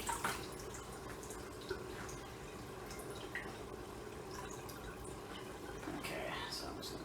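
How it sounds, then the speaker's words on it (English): Cold tap water runs over cooked pasta noodles being rinsed, giving a close, steady splashing with drips and clatter, and a person talks now and then. "if you run the noodles under cold water, it helps loosen it all back up from each other"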